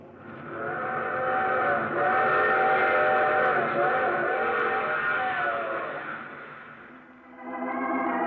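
A train whistle sounds in a radio drama effect, a long sustained multi-tone steam whistle over rolling rail rumble, fading briefly before another whistle blast begins.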